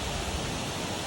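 Cripple Creek flows along a hiking trail as a steady, broad rushing wash of water, continuous and fairly faint, with no voices over it.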